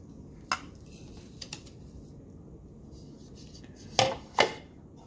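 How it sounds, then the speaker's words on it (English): The lid and blade of a KitchenAid 3.5 cup food chopper are removed, giving a few sharp plastic clicks and clacks: one near the start, two light taps soon after, then two louder knocks close together near the end, over quiet room hiss. "Take the lid off. Take the blade out."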